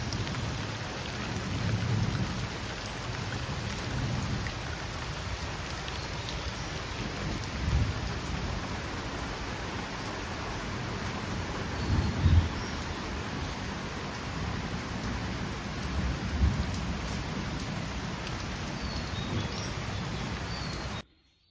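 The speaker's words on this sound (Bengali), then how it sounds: "এখনও বৃষ্টি পড়তেছে" Heavy rain pours steadily during a storm, a dense continuous hiss with a few low rumbles of thunder rising from it and no voices.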